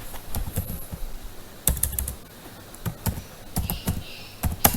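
Typing on a computer keyboard, irregular clusters of close key taps with brief pauses between bursts, alone and fairly clear.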